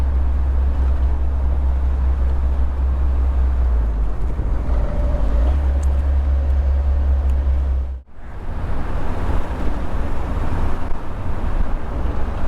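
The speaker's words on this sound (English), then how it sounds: "A good feeling driving a little English sports car with the top down." Continuous engine drone and rushing wind from an MGB roadster, a small English sports car, driving with the top down; a steady low rumble under heavy wind buffeting that dips briefly midway, with no talk.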